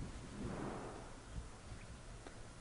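Thunder rolls through a stormy scene in the video game Assassin's Creed Rogue, a faint, low rumble with a soft rain-like hiss.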